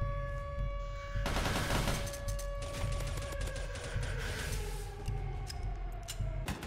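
Rapid gunfire in the Roblox rBREACH game, sustained bursts of quick shots over several seconds with mechanical clicks and tonal game sounds behind.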